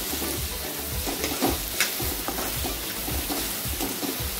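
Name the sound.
onion and tomato frying in a pan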